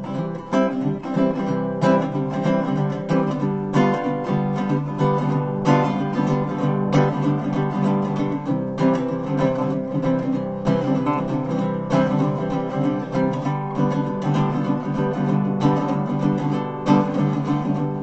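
A baritone six-string acoustic guitar with a spruce top, mahogany body and piezo pickup is strummed and picked continuously. It gives a full, dense, deep-toned stream of chords, steady and close, with no talking.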